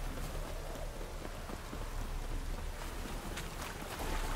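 Steady rain hisses and patters continuously in the video game The Witcher 3, a dense even wash of sound with no voices.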